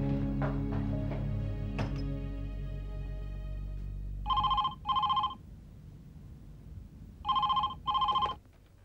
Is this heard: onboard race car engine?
no